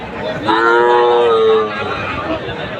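Crossbred heifer calves at a busy village cattle market lowing in a long, loud, clear moo that swells and fades, with faint crowd murmur around it.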